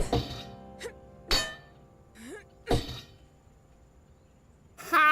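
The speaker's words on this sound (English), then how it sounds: "it just withstood like 5 blows of a sharp axe" Sharp axe blows strike a weak, rusty padlock on a locked church gate in the video game Lost & Found Co: four or five loud, separate metallic thunks and clangs, each ringing briefly before the next hit.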